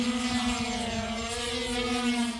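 A parcel delivery drone hovers nearby as it comes in to land, giving a loud, steady propeller whir with a strong tonal buzz that holds throughout without interruption.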